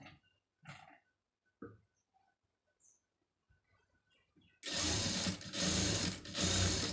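A sewing machine stitches a silk border onto a blouse neckline, starting after a few soft handling clicks and taps, then running in loud, close bursts with brief pauses between them.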